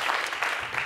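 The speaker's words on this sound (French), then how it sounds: "Applaudissez s'il vous plaît, Janine." Audience applause for a singer on a French singing show, a brief burst of dense clapping from a crowd.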